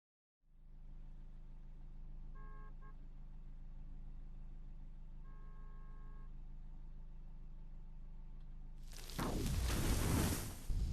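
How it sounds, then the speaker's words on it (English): An old rundown car idles in traffic, heard from the back seat as a low, steady engine hum with faint tonal blips, swelling into a louder, rougher rush of noise near the end. "Both of us in the back seat of an old rundown car, stuck in traffic"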